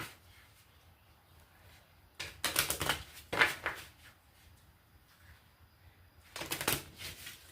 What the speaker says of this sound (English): It's hard to shuffle so few cards.